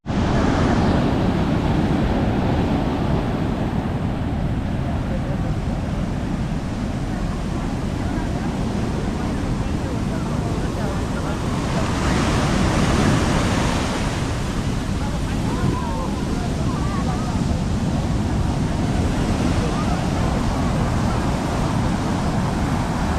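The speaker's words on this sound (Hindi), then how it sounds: "आप लोग देख सकते हो लहरें कितनी बड़ी हैं" Large ocean waves at Chandrabhaga beach near Konark, Odisha, a constant loud roar of surf with wind buffeting the microphone and swells rising and falling over the wash.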